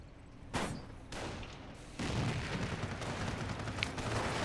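Sniper gunfire in the video game Company of Heroes: a few sharp, loud shot bursts, around three of them, each followed by a sustained rumble of battle noise with no talking.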